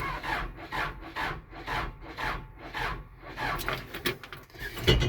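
A truck that has sat unused for a year cranks over slowly on a low battery, a steady repeating labored churn of about six even strokes, fairly close, ending in a brief clatter.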